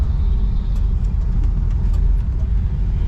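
A 1964 Cadillac Fleetwood drives and turns left, a steady low engine and road rumble heard from inside the car, with no voices.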